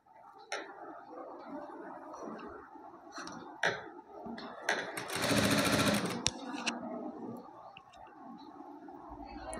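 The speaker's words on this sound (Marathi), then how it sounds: "अशी पूर्ण शिलाई मारून घ्यायची आहे" Sewing machine stitching a gathered puff sleeve from fabric without lace, its fast steady whir building to a loud sustained run in the middle, with quieter starts and stops and a few sharp clicks around it.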